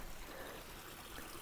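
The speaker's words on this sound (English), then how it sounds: "the rain has just stopped. But all this water running" Rainwater runs down a small brook just after rain, a faint, steady trickle and gurgle with no voices over it.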